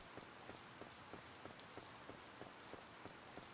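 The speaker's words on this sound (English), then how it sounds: "While it's raining," Rain falling in the video game Harvest Moon: Light of Hope, a faint, even hiss of rain with a soft regular ticking pattern running through it.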